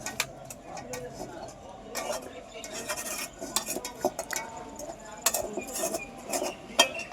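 Warm pitha dough being mixed in a pot during winter cooking, with close, irregular scraping, soft clinks and taps against the pot's sides, fairly quiet and uneven throughout.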